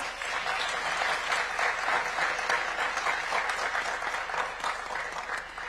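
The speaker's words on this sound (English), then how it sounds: "Please give them a round of applause." Loud, sustained applause from the audience at a youth summit with the presidents of Kenya and France, dense clapping swelling and holding throughout with no speech over it.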